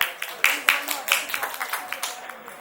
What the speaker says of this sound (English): So welcome them with a round of applause.